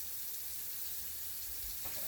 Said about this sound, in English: add room temperature water to wash the chicken feet